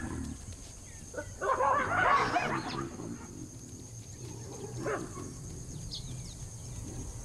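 Wild dogs yelp and bark at baboons in a burst of overlapping harsh calls around the middle, with fainter scattered calls and a steady background hiss continuing after.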